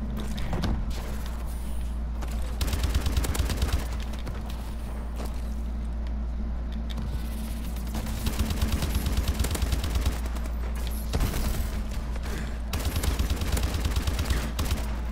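Gunfire in Call of Duty: Advanced Warfare crackles in rapid automatic bursts, nearly continuous over a steady low rumble, with a short lull midway.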